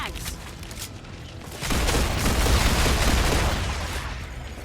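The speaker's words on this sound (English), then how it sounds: "Sorry that gun sound phase is a little loud." Sustained gunfire in the sci-fi video game StarRupture, a loud dense burst of rapid shots that swells partway through and stays heavy to the end.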